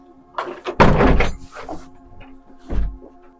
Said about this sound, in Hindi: वो दरवाजा बंद।